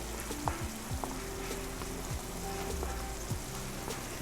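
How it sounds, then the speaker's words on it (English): Dry shrimp sautéing with ginger garlic paste and green chili coriander paste crackles softly in a pan, a faint, steady sizzle with light spattering pops and occasional stirring knocks. "I'm going to saute this until it gets nicely aromatic"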